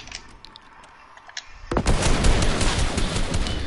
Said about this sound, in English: Why am I always getting sniped, man?